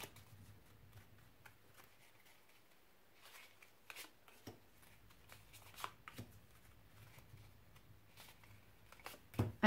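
Oracle cards being shuffled by hand in soft, faint riffling and sliding bursts, close by in a quiet room, with a few louder flicks toward the end.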